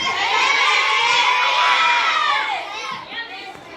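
Schoolchildren in a classroom shouting and cheering together in a loud, sustained burst of high young voices, with the noise easing off toward the end.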